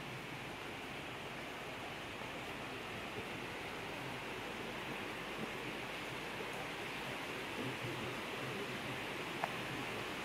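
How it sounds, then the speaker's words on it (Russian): A river rushes somewhere inside Ngườm Ngao Cave in Vietnam, heard as a faint, distant, steady wash of water noise with no breaks across the whole stretch. "Тоже где-то шумит река."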